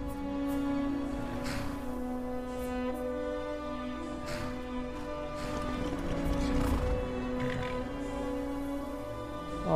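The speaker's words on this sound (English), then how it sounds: "I have to register and rename my horse." A horse in the video game Skyrim clip-clops and whinnies over a steady game soundscape, with steady hoof rhythm and occasional neighs at moderate volume and no talking.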